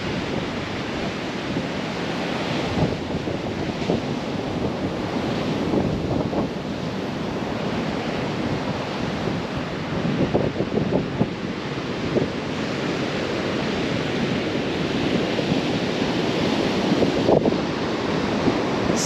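Ocean waves wash steadily onto an Outer Banks beach near a fishing pier, a continuous loud rushing surf with wind buffeting the microphone throughout and no voices.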